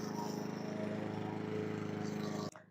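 Lawn mower running in a back garden, a continuous buzzing engine drone at moderate distance that cuts off abruptly near the end.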